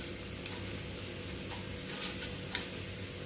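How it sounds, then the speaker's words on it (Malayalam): Banana pieces fry in a pan with sugar for a banana coconut fry. A soft, steady sizzle runs throughout, with a few faint ticks from stirring. "നമ്മുടെ പഴം ഒന്ന് ഫ്രൈ ആയിട്ടുണ്ട്"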